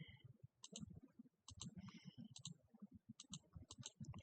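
Calculator keys clicked in short bursts of quick, light taps separated by brief pauses, close and fairly quiet, with an equation being punched into a graphing calculator.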